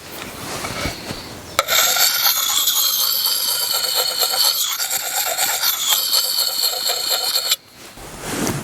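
A file rasps steadily along the steel blade of a budget axe being sharpened, loud and close, in one continuous stroke lasting about six seconds between quieter scraping.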